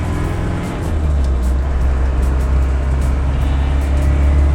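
A Land Rover Defender 90 with a 2.5 liter turbo diesel engine driving, heard from inside as a steady low engine drone and road rumble that rises slightly as it pulls, with no talk.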